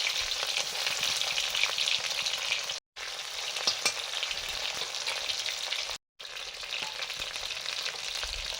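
Panch phoron, dried red chillies and chopped onion fry in hot oil, a steady loud sizzle running throughout, with two brief cuts of silence and faint stirring clinks.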